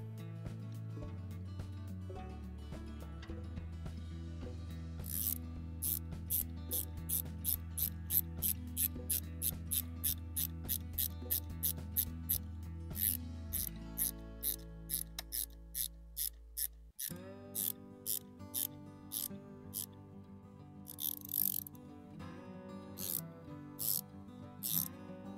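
A hand ratchet tightens bolts on a rooftop kayak J-rack, with long runs of rapid, evenly spaced clicks, short pauses between strokes and a few slower clicks near the end, close and fairly quiet, with a steady tonal hum underneath and no talking.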